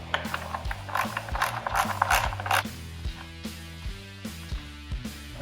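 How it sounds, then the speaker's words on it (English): A ratchet turns a 4mm Allen bolt on a Yamaha FZ-09 motorcycle, with rapid clicking at first that slows to a few separate, sharp pawl clicks, close and without talk. "4mm Allen on a ratchet."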